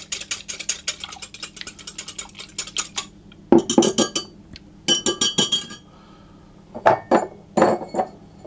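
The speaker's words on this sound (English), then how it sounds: "I'll add my egg in as well, and just mix that around to break it up" Egg being stirred in a mixing bowl for potato burger buns, with quick clinking and scraping of a utensil against the bowl in short bursts separated by pauses.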